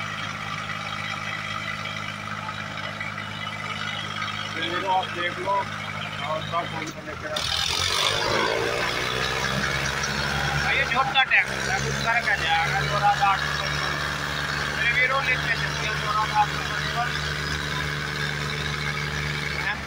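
Swaraj 855 and Mahindra 605 tractors, both on 16-inch tyres, straining in a chain tug-of-war contest at Shamli, engines droning steadily and surging mid-way, with an excited commentator talking over them throughout.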